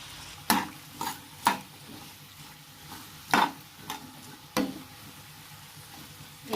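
Pirandai, the adamant creeper, is sautéed with a little salt in a pan, a low sizzle beneath several distinct scraping stirs of a spatula that come at irregular intervals, close and fairly quiet.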